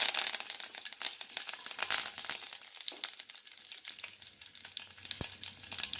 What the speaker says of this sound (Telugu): ఆయిల్ కాగిన తర్వాత ఆవాలు వేసుకోవాలి. ఆవాలు వేసుకోవాలి, కరివేపాకు,